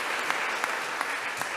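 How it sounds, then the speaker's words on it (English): Audience applause at an academic public session, a steady, moderately distant patter of clapping with a few sharper claps standing out, no one speaking over it. "let's applaud."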